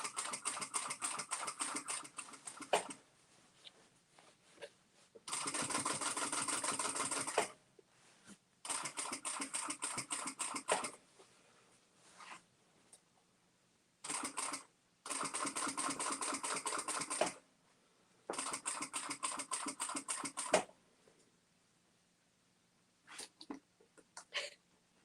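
Someone mimics a sewing machine with their voice while sewing a DIY dog bed, making close, fairly quiet bursts of rapid chattering stitch noises several seconds long, separated by short pauses, with a few brief clicks at the end.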